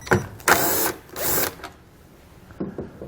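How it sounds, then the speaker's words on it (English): A power driver with a T15 torx socket backs out screws on a 2020 Chevrolet, two close whirring bursts followed by a longer run, then quieter clicks as the tool stops. "Beneath it, we're going to find 2 screws that we're going to take out with a T15 torque socket"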